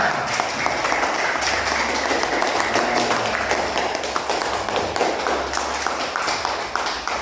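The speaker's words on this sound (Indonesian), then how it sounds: "coba tepuk tangan semua" A whole class claps steadily together for several seconds, a continuous even rattle of hands in a room with a low hum running underneath.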